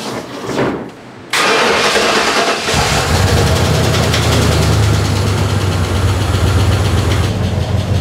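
A heavy Ford Bronco prerunner truck engine cranks and catches, then settles into a loud, steady rumbling idle that runs continuously to the end.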